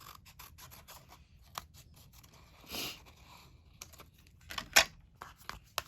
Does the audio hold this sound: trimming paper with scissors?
yes